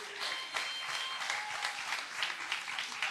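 Steady applause from an audience at a semi-final performance event in Togo, a dense even patter of many hands clapping throughout, with no voices.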